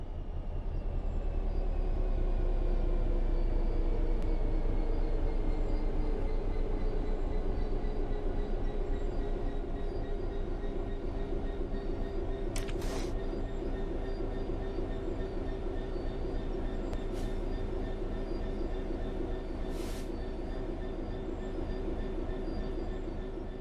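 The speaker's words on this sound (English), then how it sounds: "The train will then coast on level ground" In the video game Train Sim World 3, a train coasts steadily along level rails with a continuous low rumble and a faint whine, while a few sharp clicks cut through near the end.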